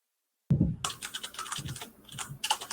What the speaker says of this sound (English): I'll let you finish typing noises